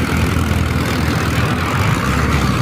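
An Arjun 605 tractor engine labors hauling a high-loaded trolley, a loud, steady low rumble with a continuous throbbing drone close by.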